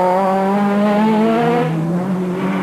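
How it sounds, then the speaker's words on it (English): A Citroën Saxo kit car on a rally stage at the 1997 Condroz Rally, its engine screaming loud and close with a strong harmonic whine whose pitch drifts as the driver holds and shifts through the revs. "Pascal Gabin in the Citroën Saxo kit car"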